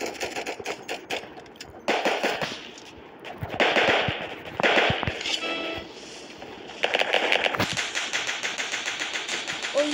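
Rapid automatic gunfire in the video game Flag Wars, dense bursts of close, loud shots in quick rattling strings with brief gaps between volleys.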